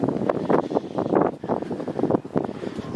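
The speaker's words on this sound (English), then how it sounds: "It's quite windy." Gusty wind buffets a microphone outdoors on a quiet residential London street during a walk. It comes as irregular, fluttering bursts of fairly faint rumbling noise.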